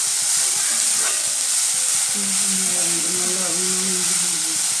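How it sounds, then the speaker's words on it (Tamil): Onions and green chillies sizzle in a pan as stuffing for potato kuzhi paniyaram, with a constant loud hiss and a faint voice murmuring underneath. "இப்போ வந்து வெங்காயம் பச்சை மிளகாயெல்லாம் நல்லா வதக்க விட்டுடலாம்"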